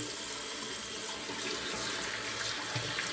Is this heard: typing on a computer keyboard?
no